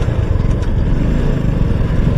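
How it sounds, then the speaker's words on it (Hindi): A motorcycle engine runs loud and close with a rough, throbbing low rumble, stopped at a red light on a road near the Aravali hills. "So now it's time to start the bike."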